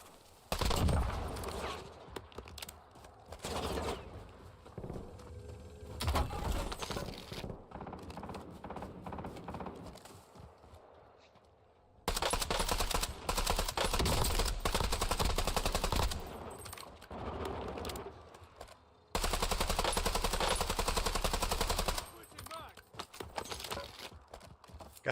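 Gunfire in the Warzone video game, with loud bursts of automatic and single shots in dense volleys that stop and restart, sometimes under speech.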